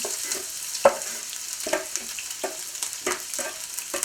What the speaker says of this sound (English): I'm heating a little bit of olive oil in a small saucepan. I'm going to add some onion